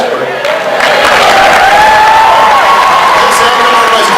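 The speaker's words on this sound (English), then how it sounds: "Everybody's clapping for you." A town hall audience breaks into clapping and some cheering, a broad, loud, continuous roar of applause from a large crowd that swells after a moment and holds steady, with scattered voices in the mix.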